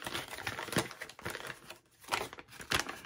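A paper parts list for Ozark Trail gear is folded back up with close, busy crinkling and crumpling in several bursts, the paper rustling loudly near the microphone, no voices.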